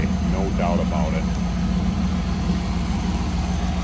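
A 1995 Pontiac Firebird Formula engine idles smoothly and steadily with a deep, even low rumble, close and continuous, while a voice speaks briefly over it early on.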